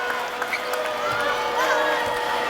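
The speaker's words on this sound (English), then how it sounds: "You can hear the crowd anticipating it." Basketball arena crowd at a UConn vs Oklahoma NCAA women's Sweet 16 game, a sustained, steady roar of many voices with a few rising cheers, loud and continuous throughout.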